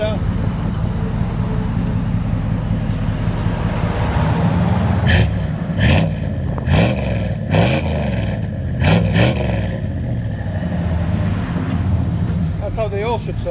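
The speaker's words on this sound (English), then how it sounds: "There's a Flowmaster 40 series muffler." A 1988 Chevy 1500 pickup with a 5.7L V8, stock converter, dual tailpipes and a Flowmaster 40 series muffler, idling with a steady low rumble and several sharp revs that rise and fall, with people talking nearby.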